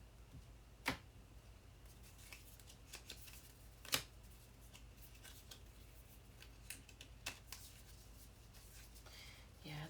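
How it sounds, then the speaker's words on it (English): Small tarot deck being shuffled by hand, with sharp card snaps standing out at intervals over a faint steady background of riffling and handling noise, quiet and close. "So this is the tiniest deck ever. Look at it. It's so little, I can barely shuffle it."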